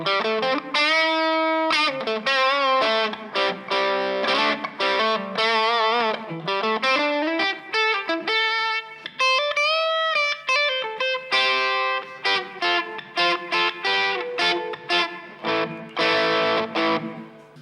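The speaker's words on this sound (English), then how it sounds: "let's throw in the Wampler Paisley as part of that" A twangy electric guitar plays a quick run of notes and bends through the Paisley side of a Wampler Paisley overdrive pedal, loud and alone, with choppy phrases and brief gaps.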